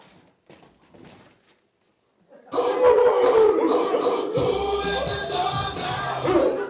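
During a comedy hypnosis show, a person imitates a dog with a long howling bark, loud and sustained, after some quiet talk and with crowd noise and laughter underneath.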